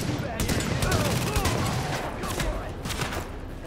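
Rapid bursts of gunfire in Tom Clancy's The Division, dense overlapping automatic shots throughout, loud and close, with talk mixed in.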